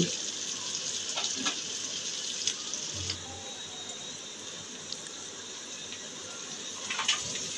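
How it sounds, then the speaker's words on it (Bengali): Cardamom, cinnamon and bay leaves frying with onions in oil for a chicken dish, a soft steady sizzle with faint stirring clicks, quiet and close. "এবার মশলাগুলোকে পেঁয়াজের সাথে নাড়াচাড়া দিয়ে কিছুক্ষণ ভেজে নিচ্ছি।"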